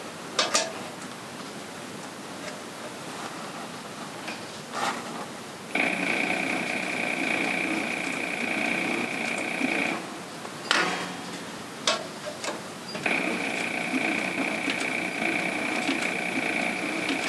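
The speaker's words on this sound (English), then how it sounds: "We'll start with some back stitches." A sewing machine back-stitches a leather briefcase during a restoration, running in two sustained bursts of steady mechanical ticking with short pauses and faint handling noises between them.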